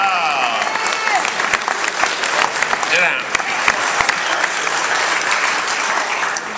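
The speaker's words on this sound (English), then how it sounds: "Let's give them a round of applause, ladies and gentlemen." An audience at an Evil Dead reunion panel at a Spooky Empire horror convention applauds steadily and loudly throughout, with cheers from the crowd and a brief spoken remark over the clapping.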